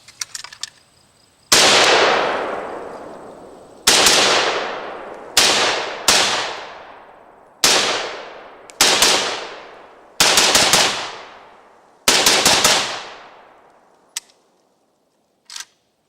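AK-variant rifle fires seven or eight loud, sharp shots outdoors, some singly and some in quick doubles, each trailing off in a long echoing decay, with a faint click near the end.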